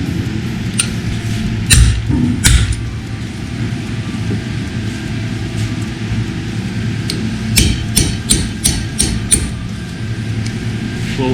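A hammer taps a rocker arm part through during a rebuild, sharp metallic knocks scattered over a continuous low rumble, with a quick run of closely spaced taps near the end.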